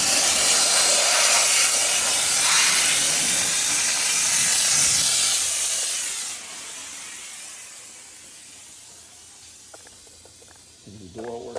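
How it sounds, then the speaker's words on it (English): A Chief Steamer 155 steam cleaner gives a loud, broad hiss of dry steam spraying continuously for several seconds, then cutting off and fading, leaving faint clicks behind. "We hit the trigger, we're just going to get dry steam."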